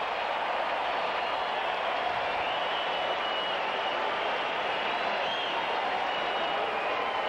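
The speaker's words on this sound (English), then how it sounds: "Crowd wants a strikeout." Crowd at a 1999 Red Sox at Indians baseball game applauding and cheering for a strikeout from Pedro Martinez, a steady, dense roar of many hands and voices that holds level throughout with no break.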